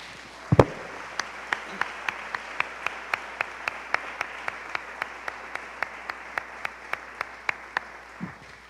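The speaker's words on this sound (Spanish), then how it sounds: "Dale ofrenda de palmas al Señor" A church congregation at a Sunday evangelical service applauds in a steady rhythm of about twenty sharp, evenly spaced claps, fairly close and loud, with a low thump near the start and another at the end.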